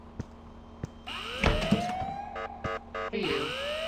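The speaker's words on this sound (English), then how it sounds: "Sound the alarm!" Alarm siren from the video game Ice Scream 8 wails in rising tones, then pulses in short repeated beeps, loud and alone for a few seconds.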